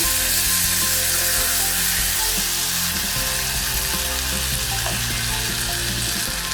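Potatoes frying in a pan of softened tomato masala for poori masala at home, giving a loud, steady sizzle with scattered crackles throughout and no voices.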